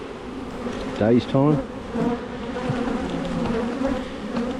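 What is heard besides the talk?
honeybees buzzing during a Langstroth hive inspection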